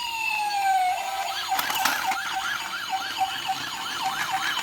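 A toy police car's electronic siren wails in a loud, steady warble, cycling rapidly up and down with no talking over it.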